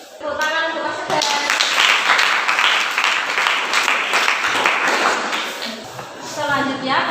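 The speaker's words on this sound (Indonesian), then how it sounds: "Tepuk tangan untuk Mas Sedan" A classroom group claps for a fellow student after a recited Indonesian poem, a dense burst of applause lasting several seconds, with a voice speaking briefly at the start and again as the clapping fades.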